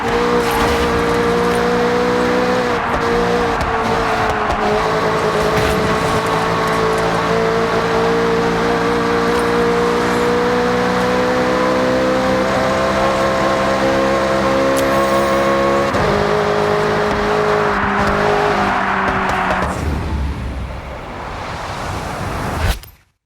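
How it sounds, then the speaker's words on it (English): Racing cars in Forza Horizon 6 drive with loud, sustained engine drone, pitch climbing and shifting through gears as one engine holds close, then dropping away at the end. "Get ready to blast those engines."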